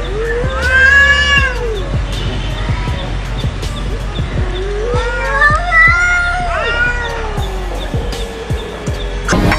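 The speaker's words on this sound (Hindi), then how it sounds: "मगर फिर भी ये बिल्ली शांत नहीं हो रही, जो अभी भी अपने भाषा में उसे गालियां देते जा रही है" An angry cat yowls in long, wavering caterwauls right after a fight, two drawn-out bursts rising and falling close to the microphone over steady background noise.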